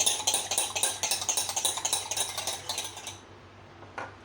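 Rapid rhythmic whisking of eggs in a bowl for egg toast, a steady clicking beat for about three seconds that then stops, leaving near silence with one faint knock.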